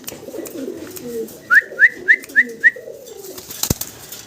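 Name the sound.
male Pomeranian pouter pigeon cooing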